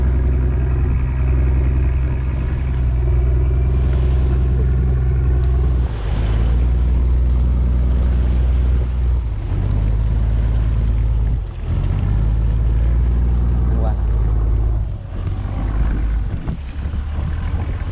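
A loud, steady fishing boat engine drones on open sea, with wind rushing across the microphone and waves washing around the hull.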